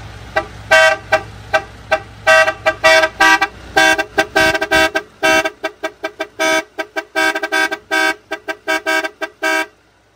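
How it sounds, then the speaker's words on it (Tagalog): A loud electronic horn from a 12-channel horn module on a Mitsubishi Montero cycles through many different tones and patterns in rapid, rhythmic bursts, close and alone. "dito sa horn module natin na 12 channel"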